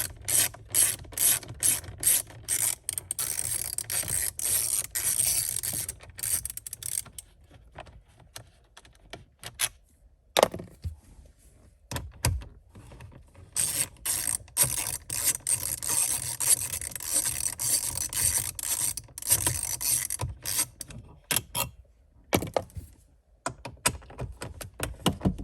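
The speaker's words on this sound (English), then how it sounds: "you're going to loosen these 4 bolts" A ratchet clicks in quick, close bursts of rapid pawl ticks, with short pauses between runs, while the bolts holding a Toyota 4Runner dash are loosened inside the cabin. No talking.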